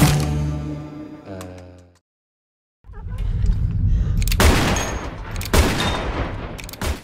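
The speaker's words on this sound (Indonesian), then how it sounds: "Baron dilatih menembak oleh Marmalade" Gunfire from shooting practice in a film, with a fast volley of shots, a brief silence, then dense loud bursts of repeated shots close by, with no speech.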